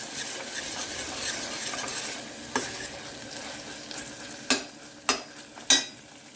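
Potato, brinjal and tomato curry stirred in a hot pan, with a steady sizzle of frying under scraping strokes and then three sharp spoon knocks against the pan near the end, no talk.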